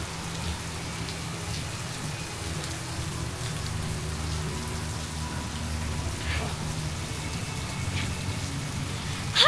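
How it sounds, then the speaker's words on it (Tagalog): Heavy rain pours steadily and densely on a mountain hike trail near Mount Daraitan in Rizal, a continuous close hiss of drops on surfaces with a few louder splatters and no voices. "Ang lakas ng ulan."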